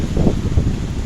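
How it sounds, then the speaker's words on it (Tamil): Strong gusty wind blowing through leaves outdoors, a loud rough rushing roar with brief rustling surges, no voices. "எவ்வளோ பயங்கரமாக காற்றடிக்குதுன்னு பாருங்க"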